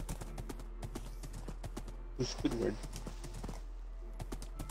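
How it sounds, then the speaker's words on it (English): Horse hooves clip-clopping in Minecraft, a quick steady stream of light clicky steps running throughout, with players talking briefly over them. "The horse!"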